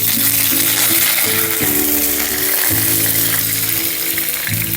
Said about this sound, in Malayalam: കടുക് പൊട്ടി ഇതിലേക്ക് നമ്മൾ കരിവേപ്പില ഇട്ട് കൊടുക്കുന്നു.